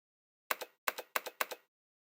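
A computer keyboard in the 999 video game gives four quick paired clicks of typing in close succession, crisp and isolated against silence.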